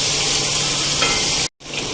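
Masala with finely chopped tomatoes sizzles and fries in a pan for dhaba-style lauki chana dal while a spoon stirs it, a steady close hiss that cuts out briefly near the end before resuming.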